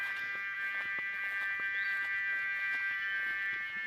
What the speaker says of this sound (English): That noise is a bug. It's not a piece of machinery or a pump.